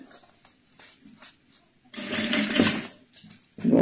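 Sewing machine running in reverse while stitching synthetic fabric for a small zippered pouch, a loud steady mechanical whir after softer start-stop bursts, close and alone with no talk.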